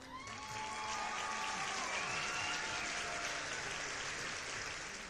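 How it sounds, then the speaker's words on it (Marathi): An applause sound effect of a whole gathering clapping together: a dense, even wash of many hands that swells in and holds steady at a soft, distant level, with faint tones underneath. "तशा सगळ्यांनी टाळ्या वाजवल्या."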